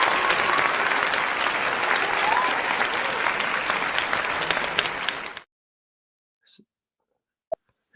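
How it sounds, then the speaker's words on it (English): A dense round of applause from a crowd goes on for about five seconds, then stops abruptly, leaving near-silence broken by a couple of faint knocks. "So I want to go ahead and give you a standard round of applause for even making it here."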